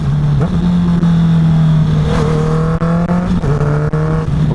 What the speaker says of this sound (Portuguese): Vou reduzir várias marchas